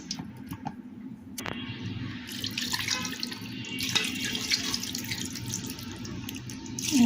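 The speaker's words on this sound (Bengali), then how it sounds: "এখন পরিমাণ মতো পানি দিয়ে বসাই দেব" Water runs and splashes steadily into a pot of marinated fish for cooking, close and continuous, with a sharp click partway through.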